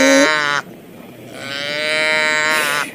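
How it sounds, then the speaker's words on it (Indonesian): A cow moos loudly and close, one long call that rises in pitch at the start, then a short pause before a second sustained, drawn-out moo. "Ada sapi"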